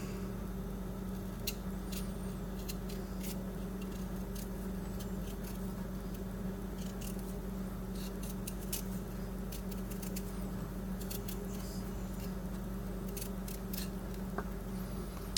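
A factory-edge knife peels the tough skin off a beet in a run of faint, crisp scraping and snipping strokes, irregular and close, over a low steady background hum with no speech.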